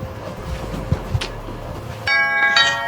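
A doorbell rings near the end, a bright sustained electronic chime after a stretch of low room noise and faint knocks.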